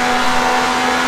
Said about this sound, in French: Où elle est quand même passée, cette Ferrari